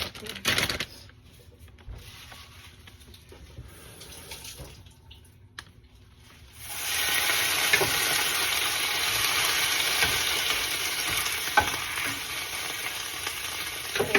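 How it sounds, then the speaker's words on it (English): Spinach sears in olive oil with garlic on a stovetop. Quiet clicks and handling sounds come first, then a loud, steady, hissing sizzle starts suddenly and keeps going, close to the listener, with no talking. "Sear the spinach on the stove."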